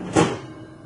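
An oven door shuts with a single soft, muffled thud, brief and close, followed by a faint fading tail.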